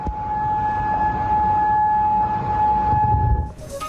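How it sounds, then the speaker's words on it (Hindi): A steady, sustained air raid siren wail in Kuwait holds one pitch for several seconds, fairly loud against a rumbling background, then cuts off abruptly. "इस वजह से पूरी रात सायरन से गूंजता रहा है कुवैत।"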